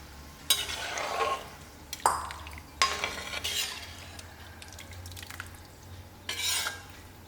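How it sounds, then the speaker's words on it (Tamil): Strained tamarind water poured into a pot of boiling vatha kuzhambu, heard as several splashing, stirring bursts with clinks against the vessel, fairly close and moderately loud with no talk. "அதை வந்து நல்லா கரைச்சி வடிகட்டி எடுத்து இதில் ஊற்றிடலாம்"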